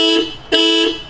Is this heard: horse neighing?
no